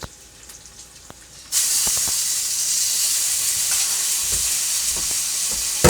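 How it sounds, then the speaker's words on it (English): Yogurt hits a smoking-hot pan partway through and a loud, steady sizzle takes over as it sears to the bottom, hissing and crackling up close with occasional clinks. "you can hear the yogurt searing to the bottom of the pan"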